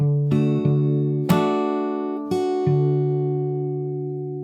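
An acoustic guitar fingerpicks a brief phrase, a handful of plucked notes and chords left to sustain and fade, close and solo with no talking.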